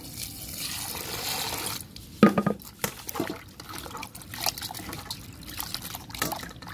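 Pieces of loitta (Bombay duck) fish are washed in water, giving irregular trickles, drips and small splashes that swell and fade at close range.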